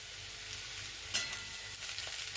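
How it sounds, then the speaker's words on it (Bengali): Onion frying in oil in a kadai for a spicy mourola fish curry, a steady close sizzle with a few brief louder crackles and stirring scrapes, no talk. "পেঁয়াজটাকেও মিডিয়াম টু লো ফ্লেমে কিছুক্ষণ ভেজে নেবো"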